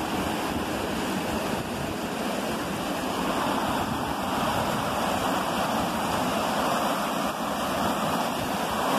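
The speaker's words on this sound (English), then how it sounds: "I know there'd be quite a lot of water coming down this waterfall" Waterfall in a countryside park, water rushing down in a dense, constant roar that stays steady and close throughout with no talking.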